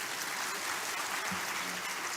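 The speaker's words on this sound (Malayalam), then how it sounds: "കുറിലോസ് പിതാവിന് ഒരു നല്ല കയ്യടി കൊടുക്കും." Audience applause for Father Kurilos at a Catholic archdiocesan gathering in Changanassery, a steady, distant-sounding patter of many hands held at an even level for a couple of seconds.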